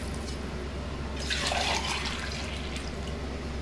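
A short splash of water poured into a pot, lasting about half a second, over a steady low background hum.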